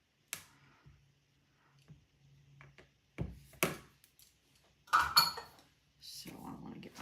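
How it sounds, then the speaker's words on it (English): Frosting for chocolate chip cookie sandwiches is pounded in a bowl with a utensil, giving a few scattered, close knocks and clatters separated by quiet gaps, with brief bits of voice between them. "I don't know why I'm pounding on that instead of using my spatula"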